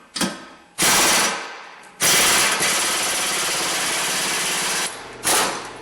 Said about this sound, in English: I'm going to just put this socket on and take it off with an air gun